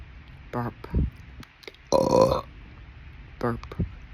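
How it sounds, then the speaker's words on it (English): A person lets out a series of loud, close burps: two short ones, a long drawn-out belch in the middle, then two more short ones, separated by brief pauses. "burp, burp, burp,"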